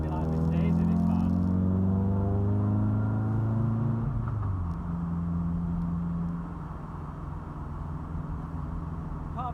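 A 1984 Cavalier GL with an SRi130 engine drives along, its engine note loud and close with strong harmonic drone, easing off midway and settling into a lower, rumbling cruise.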